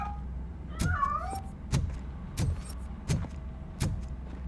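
A cat meows in the video game RoboCop: Rogue City, a couple of rising, wavering cries near the start, followed by a series of sharp, evenly spaced thuds or footsteps over a low ambient rumble.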